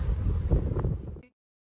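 Strong wind buffets the microphone in a loud, steady low roar that cuts off abruptly after about a second.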